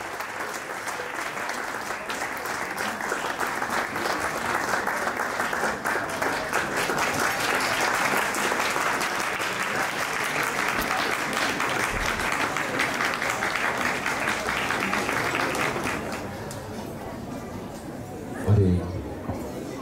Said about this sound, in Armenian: խնդրում եմ ջերմ ծափահարությունով հրավիրենք նրանց միանալ մեզ